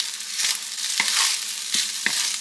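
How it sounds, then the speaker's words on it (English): Steady sizzling of rice frying in a pan, with a few sharp scraping clicks of a utensil stirring through it. "I'm just going to start frying this rice up."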